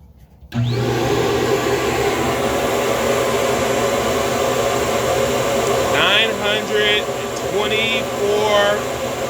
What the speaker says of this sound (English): So we have the flow bench set up, ready to go.